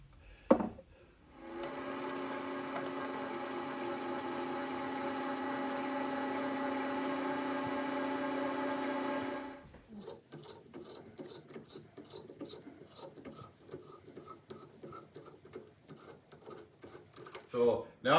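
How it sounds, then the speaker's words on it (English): Reamer working a hole in a gear part for a PM 1228VF lathe carriage reduction gear, a steady tonal whirring grind for several seconds that stops abruptly, followed by softer scattered clicks and handling noises. "I'll just ream it from there on"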